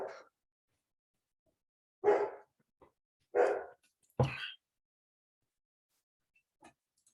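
Dogs give a few scattered barks in a quiet indoor room, three fairly clear woofs spaced a second or so apart, followed by a couple of fainter yips.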